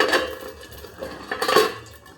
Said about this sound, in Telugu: ఇట్లా పెట్టి మనం దీనికి మూత అనేది పెట్టుకోవాలి